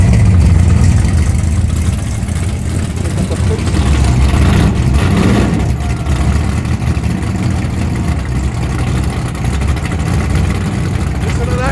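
A modified muscle car engine at airstrip drag races, a loud, dense, continuous roar with a brief surge of revs midway, heard close up with outdoor wind noise.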